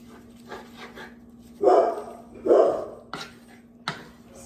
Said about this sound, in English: sorry about the dogs. They have no manners.